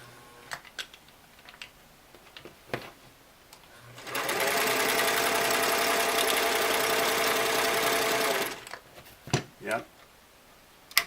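A restored Singer Model 337 sewing machine runs in one steady, loud, continuous burst of rapid stitching, switching into reverse partway without stopping, with quiet handling clicks before and after.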